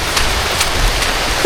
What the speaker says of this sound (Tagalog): umuulan, basa kami.